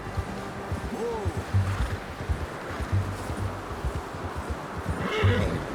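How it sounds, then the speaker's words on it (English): A horse neighs twice in Red Dead Redemption 2, a rising whinny near the start and another toward the end, over hoof clip-clops and quiet ambient game sound. "How's that new horse?"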